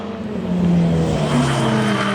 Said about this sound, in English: This is the left-hand drive car.